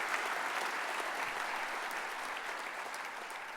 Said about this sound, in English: Please join me in a round of applause celebrating Bobby Gentry's induction